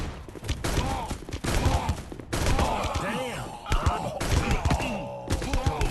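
Gunfire in the Gun of Boom online shooter game, rapid shots and thuds layered with game effects, continuous and dense, while someone talks over the action.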